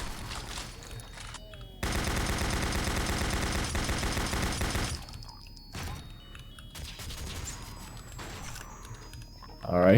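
Rapid chaingun fire from chaingunners battling a Revenant in a Doom 64 mod, a dense three-second burst of fast rattling shots followed by scattered thumps and softer game noises.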